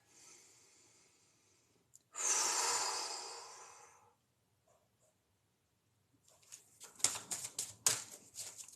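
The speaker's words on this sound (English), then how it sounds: "I need to take a breath." A woman hosting a live psychic tarot stream takes one deep, close breath, a loud airy intake that trails off into silence. Faint clicks and taps follow afterward.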